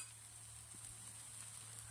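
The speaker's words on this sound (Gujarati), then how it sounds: "મેં મસ્ત ધીમા તાપે શેકવા દીધું છે" Spiced masala with ginger roasting gently in a pan over a low flame, giving a faint, steady sizzle with a constant hiss and no voices.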